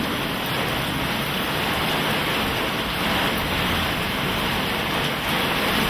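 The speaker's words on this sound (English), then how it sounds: "That's a big hailstone." Large hailstones pour down during a downburst storm in Middle Village, New York, a steady, dense, loud wash of impacts blending into a continuous roar.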